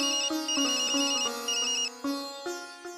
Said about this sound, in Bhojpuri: गुड्डू भैया के फोन है बे